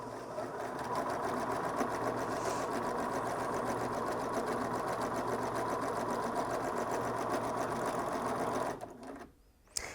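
A Bernina S-325 sewing machine stitches through 8 layers of denim with a fast, steady, rhythmic mechanical hum. The stitching stops abruptly near the end, followed by a brief click.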